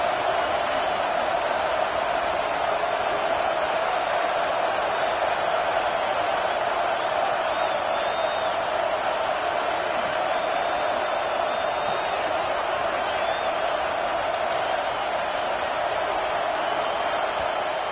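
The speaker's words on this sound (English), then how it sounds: "Decibels rising as the crowd gets behind this defense on third down." Stadium crowd in a college football video game, Oklahoma Sooners against the Florida Gators on third down, rising as a steady dense roar that holds loud and constant throughout.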